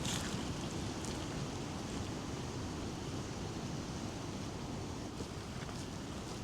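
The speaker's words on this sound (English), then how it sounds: "This wind is just relentless." Strong wind blows relentlessly across open Kentucky country in spring, a loud, continuous broadband rush with gusty swells that buffets the microphone throughout, with no voices.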